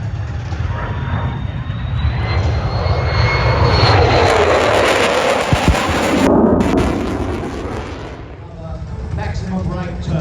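A jet aircraft makes a fast pass at an airshow, a loud, sustained roar swelling and fading as it sweeps by, with a commentator speaking over it.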